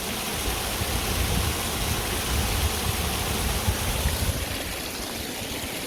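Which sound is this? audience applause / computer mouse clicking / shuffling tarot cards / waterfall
waterfall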